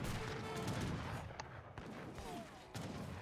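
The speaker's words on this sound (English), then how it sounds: "And now the heavy cannons." Heavy cannons fire in an Age of Empires 3 battle, dense booming artillery mixed with crackling gunfire in a dense, continuous din.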